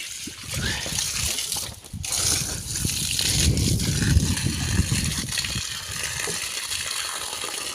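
Steady water spray from a borewell hissing and splashing against a vehicle being washed, continuous and fairly close, with no voices.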